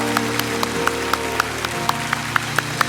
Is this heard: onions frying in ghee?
no